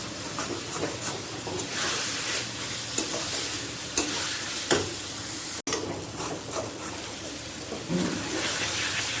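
Ridge gourd, onion and poppy seed paste frying in oil in a pan, a steady close sizzle with occasional stirring scrapes and one brief clatter partway through, no voices.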